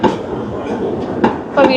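A tram rumbles past close by in Milan, with a steady mechanical drone and a few sharp rattling clacks, a voice audible briefly over it.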